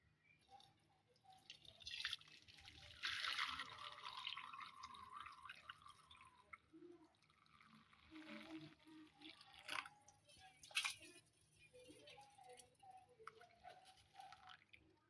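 Faint dripping and trickling as melted jaggery syrup is strained into a bowl in a home kitchen, soft liquid patters and small splashes with a low background hum.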